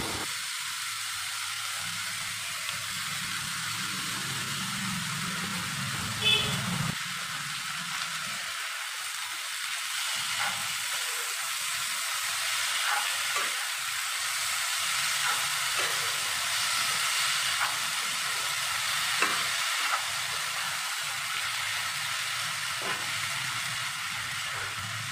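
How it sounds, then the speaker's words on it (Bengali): Washed wild mushrooms fry in a pan as their water cooks off, giving a soft, continuous sizzling hiss that rises and falls gently over a long stretch, with no talking. "ছাতুগুলো থেকে যতক্ষণ না জল শুকিয়ে যাচ্ছে ততক্ষণ ছাতুগুলি ভাজতে থাকবো"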